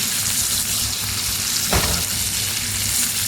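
Steaks fry in a bath of melted butter in a pan, a loud continuous sizzle with a brief sharper crackle burst midway, close and without talk.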